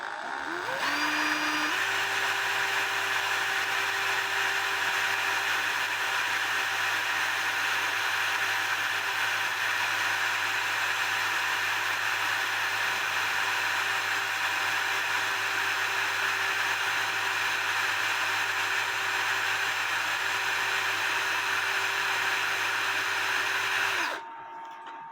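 A small power drill bores a hole in a clock pivot, a loud, steady high whine running unbroken for about twenty-two seconds after a quick spin-up, then cutting off abruptly.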